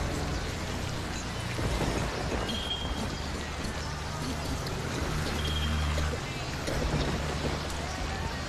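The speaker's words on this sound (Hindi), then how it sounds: "बाहर बहुत बारिश हो रही है" Heavy rain falls outside as a dense, steady hiss that fills the whole scene, with low rumbling underneath and voices speaking over it.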